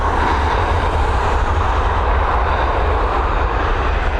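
Boeing 737 MAX jet departing Dublin Airport, its engines giving a loud, steady broadband roar that holds constant throughout without a break.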